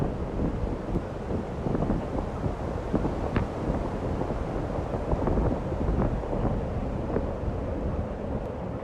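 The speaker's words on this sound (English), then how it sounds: "this wind is brutal up here on top of the dome" Brutal wind buffeting the microphone atop a granite dome in Yosemite National Park, a constant loud low roar with gusty rumbles and occasional sharp knocks, no voices.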